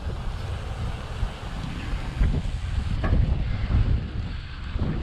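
Wind buffets the microphone steadily along a seaside route past a post-industrial coast, a continuous low roar and rumble with gusts swelling and easing, no voices.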